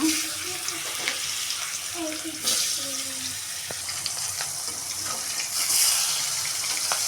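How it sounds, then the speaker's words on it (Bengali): Fish fry in hot oil in a wok, giving a steady, bright hiss and crackle that runs throughout, with faint tones and brief clinks layered underneath. "এখন আমি একটা একটা করে মাছগুলো দিয়ে সুন্দর করে ভেজে নেব"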